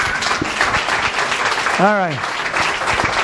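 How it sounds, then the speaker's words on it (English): Applause for Adam fills a live business-book event, dense and steady clapping throughout, with a brief voice cutting in over it midway. "Let's give Adam a round of applause."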